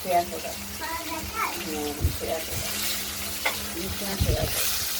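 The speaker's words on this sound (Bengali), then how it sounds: "কষিয়ে নেব, তেলে ভাজা ভাজা করে নেব।" Soft sizzle of tomato frying in oil and occasional stirring scrapes sit under a nearby voice talking, with a voice breaking in now and then.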